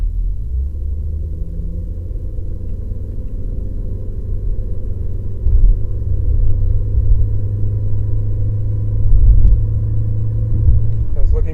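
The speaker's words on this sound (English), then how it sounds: "So we'll do another partial hard acceleration." A Volkswagen B5 with a 1.8-litre turbo engine holds a steady deep rumble under partial hard acceleration, with low drone swelling slightly midway, close and loud, while someone talks over it.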